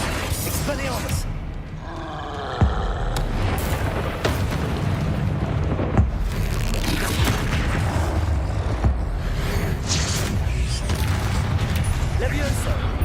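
Spell casting in the Hogwarts Legacy video game: loud magical whooshes and booming impacts come one after another over a continuous rumbling game soundscape, with someone speaking over the action.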